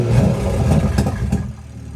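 A Toyota Supra mk5 cold-starts with an open dump valve, giving a loud, close, rough engine roar with clattering texture that drops off in the final half-second.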